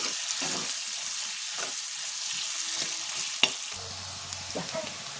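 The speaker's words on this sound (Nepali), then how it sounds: "यसमा अब प्याजहरू प्याज रातोसँग भुटे।" Onions fry in oil left over from frying fish, a steady close sizzle with faint stirring scrapes and one sharp clink of a utensil against the pan.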